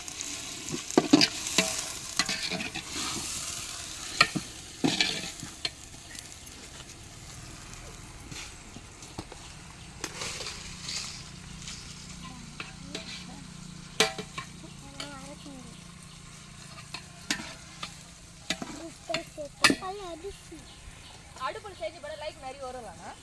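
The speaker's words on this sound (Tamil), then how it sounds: "தக்காளி நல்லா வதங்குற வரைக்கும் நல்லா வதக்கலாம்" Tomatoes and green chilies sauté in a pan for chicken biryani, a low sizzle under repeated clacks and scrapes of a spoon stirring, while someone talks over it.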